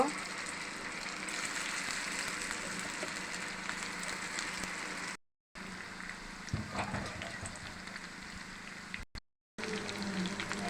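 Chicken pieces sizzle in hot oil in a home kitchen. The frying hiss is loud, steady and broadband, and it drops out briefly twice.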